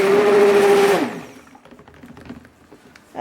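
An immersion blender mixing dandelion and lemongrass soap whirs loudly with a steady high-pitched whine for about a second, then cuts off abruptly, leaving quiet clatter and handling noises.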